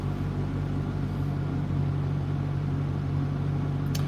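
A Dodge Demon 170 muscle car pulling onto the road, a deep, steady engine rumble heard from inside the cabin, constant and loud with no voices over it.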